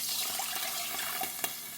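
One and a half cups of water poured onto well-browned fried onions in a cooking pot, a steady close rushing splash lasting under two seconds with no talk.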